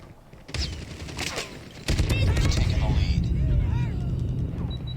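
Shotgun blasts in the mobile shooter Call of Duty Mobile, a burst of loud rapid gunfire followed by sustained battle noise with crackling impacts, layered under game sounds.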